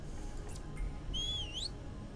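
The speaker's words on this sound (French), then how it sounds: "admettons, je siffle ici" A single human whistle in a game setting, a bright rising and falling pitched tone lasting about half a second, heard faintly over steady low background noise with no talk.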